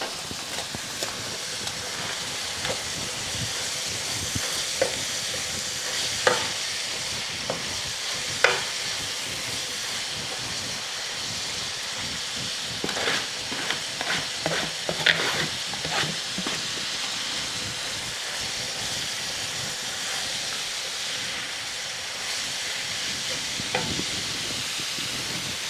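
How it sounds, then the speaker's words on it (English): Cabbage frying in oil in a pot, a steady broad sizzle throughout with occasional scrapes and knocks from stirring, fairly close and with no talking. "let it cook a little with the oil, and at this point I have to add the cabbage"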